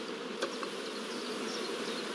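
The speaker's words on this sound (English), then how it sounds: "Bees crowding thickly around the cells is a first positive sign of good acceptance" Honey bees crowd thickly around the cells of a queen rearing frame, making a dense, steady buzzing hum close by, with one brief click and no voices.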